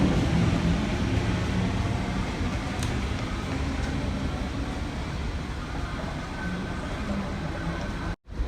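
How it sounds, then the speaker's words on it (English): A-set electric suburban train, set A55, pulling out of platform 4 at Parramatta on a Penrith service, a steady broadband rumble and rolling rail noise filling the whole span before a brief dropout near the end. "Oh, and we have A55 now departing on platform number 4. It's a Penrith service."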